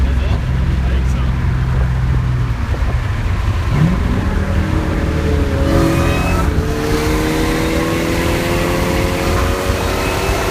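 A supercharged 2001 Bullitt Mustang with a 2V engine launches in a drag race, its engine roaring loud and close as it revs up through gears, while people talk over the noise.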